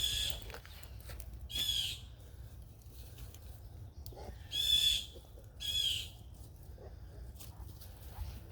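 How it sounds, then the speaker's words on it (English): Bird calling outdoors on a woodland walk with a dog, a few separate squawking cries spaced seconds apart, fairly clear over a quiet background of rustling and footsteps. "it's a bird"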